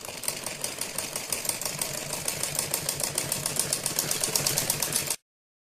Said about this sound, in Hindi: अब हम बुकरम के बिल्कुल बराबर में इस तरह से नीचे तक सिलाई लगाते जाएंगे